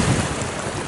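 Waves at Hellevoetsluis wash in a brief broadband rush, mixed with heavy wind buffeting the microphone.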